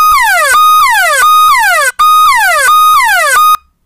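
A loud electronic phone security alarm tone repeating rapid descending sweeps in steady cycles, with a brief gap partway through before it cuts off.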